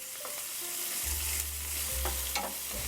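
Garlic and onion frying in vegetable oil over high heat, a continuous bright sizzle with scraping stirs and a low hum underneath, no voices.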